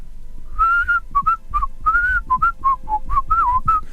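A person whistles a rapid run of short, very high-pitched notes, some sliding and warbling, close and fairly loud with breathy gaps between them.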